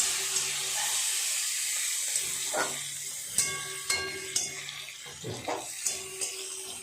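Onions frying until red in a pan for a jackfruit and prawn curry give off a steady, bright sizzling hiss, with a few clinks and stirring knocks near the end and no talking.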